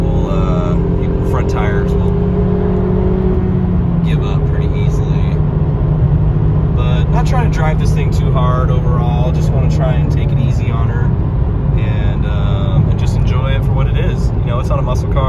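A Honda Civic Si with a six-speed manual drives along on a clear winter road, its steady engine and road drone running continuously beneath someone talking throughout.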